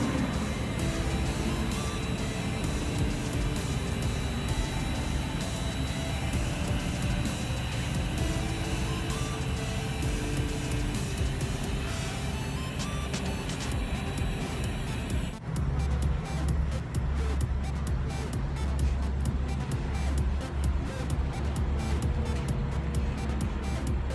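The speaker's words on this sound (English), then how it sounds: "We are just now pulling onto the interstate after filling up" Steady road roar and engine drone from inside a vehicle on a cross-country road trip as it pulls onto the interstate after refuelling, continuous and fairly loud, with a change in the noise about two-thirds through.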